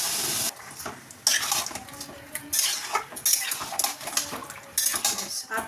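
Marinated chicken coated in ginger garlic paste goes into a pan. A metal spoon scrapes and clinks against the pan again and again, loud and close, with no voices.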